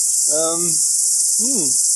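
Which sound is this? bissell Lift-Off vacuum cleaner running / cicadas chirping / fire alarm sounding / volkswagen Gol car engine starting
cicadas chirping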